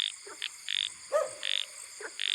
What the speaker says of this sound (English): There are a lot of frogs in this field.